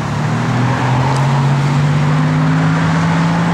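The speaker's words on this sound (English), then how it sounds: "It's got a good sounding exhaust. It's an H-pipe dual exhaust, but it's got the chrome tips." A 1972 Chevrolet Malibu with a 350 engine and H-pipe dual exhaust with chrome tips idles with a steady, deep low rumble, close and constant without pause.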